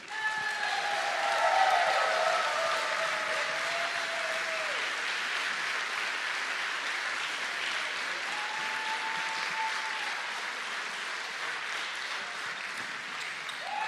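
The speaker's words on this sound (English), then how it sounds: "So a big round of applause for all the people who's been working very hard for this event." A crowd at a sword-fighting tournament gives a long, steady round of applause for the event staff, many hands clapping evenly for about fourteen seconds, with a few faint tonal pings mixed in.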